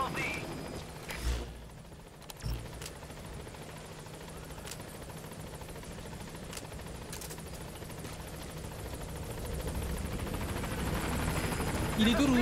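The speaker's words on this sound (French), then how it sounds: "Ah, hélicoptère peut-être?" A helicopter in the video game Metal Gear Solid V: The Phantom Pain gives a steady rotor drone that grows gradually louder toward the end, with a few faint sharp knocks early on and no clear talk.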